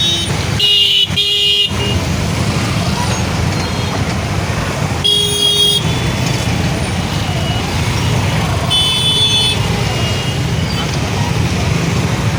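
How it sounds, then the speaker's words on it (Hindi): Continuous road traffic of buses and other vehicles at Chadarghat, a busy junction fed from two directions, with a steady engine rumble and brief horn toots cutting through near the start, middle and later on. "यहाँ दो ओर से ट्रैफिक आ रही है"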